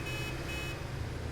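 A vehicle horn in the video game Satisfactory, on a vehicle transporting rubber, holds one steady, unbroken blare over the game's engine hum for the whole moment.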